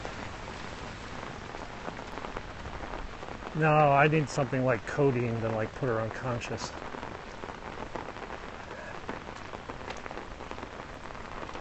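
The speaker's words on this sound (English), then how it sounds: "Rain's picking up." Steady rain falls during a morning hike in Hong Kong, a constant hiss of drops hitting surfaces, while someone talks briefly in the middle.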